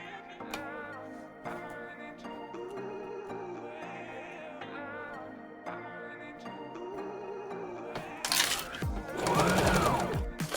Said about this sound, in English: I'm turning it over and doing a flat stitch on the outside of the garment.